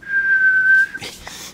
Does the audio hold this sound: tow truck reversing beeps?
no